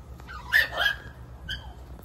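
A dog barks outside near a car dealership, a couple of short yips and barks at moderate distance over low background rumble.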